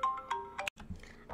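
A mobile phone ringtone in The Sims 4 plays a short, fairly quiet electronic melody of bright chiming notes, breaking off briefly before a few softer tones follow.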